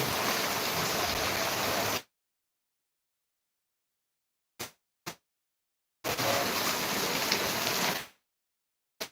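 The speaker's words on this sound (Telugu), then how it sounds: "చాలా అంటే చాలా వాన వస్తుంది" Dense, steady hiss of heavy rain in Dharmavaram in two loud bursts, separated by silence and a couple of brief clicks.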